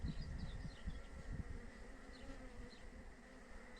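A dense, continuous buzzing hum of a swarming honeybee colony, steady and droning with individual insects flitting past, faint and without speech.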